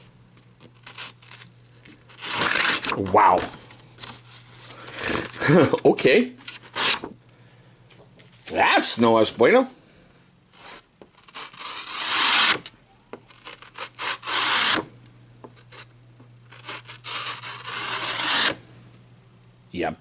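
A CRKT Inara knife slices heavy-duty stock paper in a series of loud, rasping tearing strokes separated by short pauses, with a person speaking briefly between cuts.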